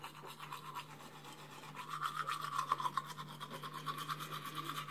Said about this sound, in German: Ich liebe diese vibrierende Zahnbürste.